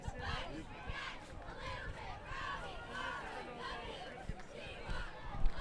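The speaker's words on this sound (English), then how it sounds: "Good Chelmsford crowd down here today. You can hear them." A Chelmsford High School football crowd at a November night game against Catholic Memorial, a broad roar of cheering and shouting voices that holds at a distance and swells briefly near the end, with chatter mixed in.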